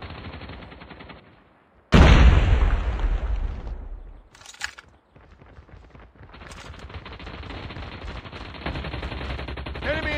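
A grenade blast bursts loudly in Call of Duty Mobile, followed by rapid gunfire and a ringing tail, then quieter game ambience and further shots.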